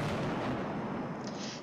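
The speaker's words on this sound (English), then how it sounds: "Yeah, you could have like longer or shorter fireworks." Fireworks go off in a wrestling video game arena as a dense, continuous crackling roar of bursts that fades slightly toward the end.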